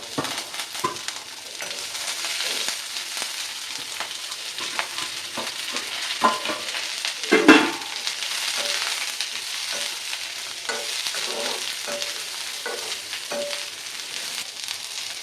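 Chopped carrots, beans and curry leaves stir-fried with dal in a pan, giving a continuous close sizzle with scattered clinks and scrapes of a spoon against metal and one louder knock midway.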